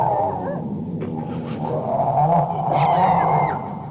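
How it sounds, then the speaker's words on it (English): A creature's low, rumbling growl from a Halloween sound effects tape, loud and continuous with a deep snarling texture and a rising, raspier moan toward the end, no talk. "it's growling at him"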